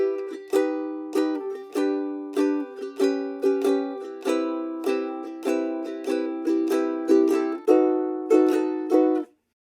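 Ukulele plays the intro to a song, a bouncy run of crisp plucked and strummed chords in steady rhythm, loud and close with no voice, ending on a held final chord.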